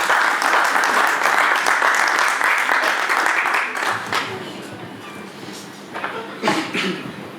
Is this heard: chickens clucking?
no